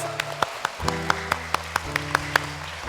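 At a school Easter revival service, an audience claps for Matius in a steady, evenly spaced rhythm, sharp claps landing over sustained keyboard-like tones.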